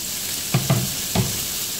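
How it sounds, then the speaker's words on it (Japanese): Vegetables and frozen clams stir-frying in a pan, a soft steady sizzle broken by three quick scraping stirs in the middle of the short stretch. "このまま炒めます"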